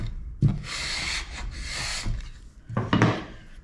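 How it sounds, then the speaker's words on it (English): A squeegee or card rubs firmly across a large vinyl decal, giving two long swishing strokes followed by shorter scraping passes, close and fairly quiet. "let's give it a good old going over with a squeegee or bank card or whatever again"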